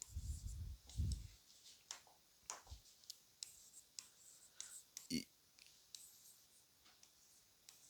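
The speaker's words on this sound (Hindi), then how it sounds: "चलिए यहाँ पर लिखेंगे अब" A pen writes by hand on paper during a class 10 maths lesson, producing faint, close scratches and taps in short irregular strokes, with a teacher's voice heard now and then.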